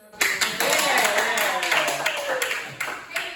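A room of people clapping at a gathering about instrument repair, a burst of dense claps under a talking voice.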